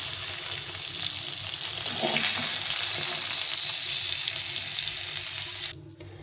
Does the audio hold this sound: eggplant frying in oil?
yes